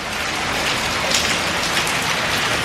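Rain falls steadily as a continuous, dense hiss of drops striking surfaces, fairly loud and unbroken, with no talking.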